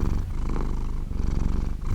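Close, loud cat purring rumbles steadily in a low, rhythmic drone that rises and falls with each breath, continuous and alone without speech.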